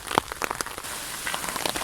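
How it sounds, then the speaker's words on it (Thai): Rain falls in a forest during mushroom picking, a steady patter of drops striking leaves and surfaces with scattered sharper close taps over a soft hiss. "ฝนยังไม่มีทีท่าว่าจะซาเลยเนี่ย"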